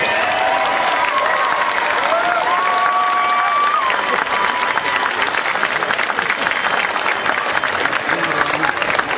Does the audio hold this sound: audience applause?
yes